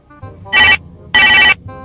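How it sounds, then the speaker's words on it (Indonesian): Phone ringback tone while a call is being placed, two loud, near bursts of ringing separated by short pauses, with low background hum between them. "Ah, gue telepon bocah dah."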